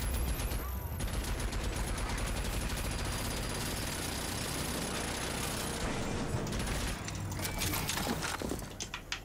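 Sustained gunfire in the video game RAGE 2, rapid automatic bursts and clattering mechanical shots packed densely for several seconds, loud and continuous with brief gaps.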